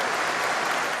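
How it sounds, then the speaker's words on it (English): Crowds in London roaring and cheering at the proclamation of King Charles, a dense, even wash of distant crowd noise and applause, brief and unbroken. "the roar of crowds across London"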